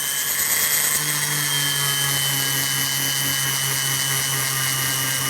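A hammer face is polished with Tripoli compound on a pedal-run buffing wheel, a steady, loud motor whine with a constant hum and a faint rubbing hiss, running evenly without pause.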